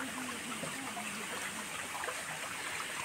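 A forest stream at Ahobilam rushes steadily over rocks, a constant, even wash of flowing water with no pauses.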